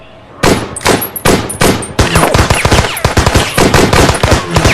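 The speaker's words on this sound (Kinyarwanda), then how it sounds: "kumbe yakuye imbunda" Loud, rapid machine gun fire in a dubbed action film erupts after a brief lull and continues in dense, crackling bursts, close and dominant throughout.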